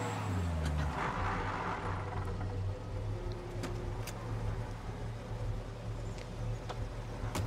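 A car driven through city streets in Mafia: Definitive Edition, a steady low engine hum with faint traffic and small knocks, continuous and fairly quiet, with no one talking.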